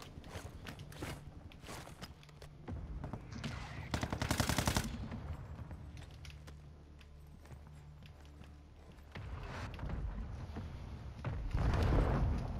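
Bouncing Betty mine exploding in a first-person shooter match, heard among rapid gunfire: a loud burst near four to five seconds and another blast near twelve seconds, amid steady combat noise.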